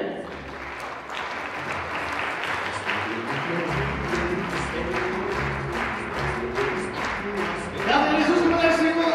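A large concert audience applauds a middle-aged folk dance troupe after its performance, dense steady clapping that swells louder near the end, with a voice speaking over it.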